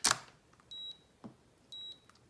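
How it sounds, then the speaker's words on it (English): A camera shutter fires with a sharp click at the start, triggered by a Rollei cable remote, followed by two short electronic beeps and another softer click, close and isolated. "you can also release the shutter completely manual by pressing down"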